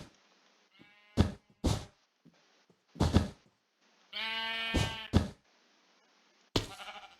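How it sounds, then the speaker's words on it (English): Sheep in the video game Minecraft bleat several times, short separate calls with quiet gaps between them, near and clear with no talk. "Aw, poor sheep."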